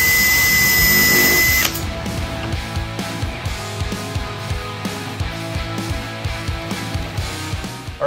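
A power drill whirs steadily with a pulsing, repetitive grind, loud and close, after a brief high-pitched burst at the start.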